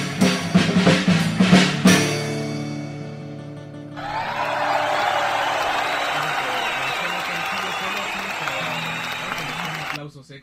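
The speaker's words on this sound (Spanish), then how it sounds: "Aplausos extra." Audience applauding after an acoustic song, music ending first, then a steady wash of clapping and cheering that holds evenly before cutting off.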